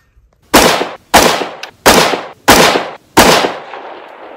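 Five sharp, loud rifle shots from a Springfield Saint Edge ATC 5.56 rifle fired at a 500-yard range, evenly spaced about two-thirds of a second apart, each with a brief echoing tail.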